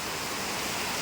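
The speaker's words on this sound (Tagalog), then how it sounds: "Grabe ang lakas ng ulan." Heavy rain pouring down in a Philippine province, an unbroken dense hiss like a downpour, with no voices over it.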